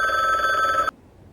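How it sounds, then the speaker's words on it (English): An old-style telephone bell rings in the noir adventure video game Bookwalker: Thief of Tales. It is a bright, steady electronic trill that cuts off abruptly after a moment, leaving near silence. "Maybe I should answer the phone before I read this, if it's just going to keep ringing."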